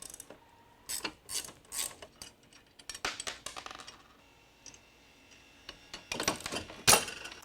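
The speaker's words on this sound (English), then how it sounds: "loosening your two off contact screws in the back of the head right here with a 1/2-inch wrench" Two contact screws at the back of a Ryonet Silver Press screen-printing head being loosened with a 1/2-inch wrench, giving scattered metallic ratcheting clicks and clanks in short irregular bursts, fairly quiet and close.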